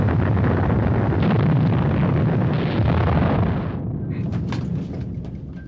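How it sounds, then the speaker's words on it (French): An underwater explosion from the sinking of the German submarine U-864, heard as a loud, rumbling roar that holds for several seconds, then cuts away to quieter crackling. "Forte et nette explosion suivie de bruit de casse"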